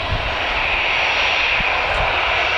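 An EasyJet jet airliner at Newcastle Airport, heading off to Bristol, gives a steady, loud engine roar that holds level throughout with no talking.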